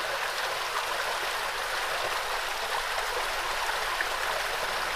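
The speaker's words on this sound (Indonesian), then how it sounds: "Di bawahnya ada sungai yang airnya itu terlihat jernih dan dingin." A clear, cold river flows below layered hills near Almaty, Kazakhstan, giving a steady, broad rushing wash of water that stays even and continuous throughout, with no voices.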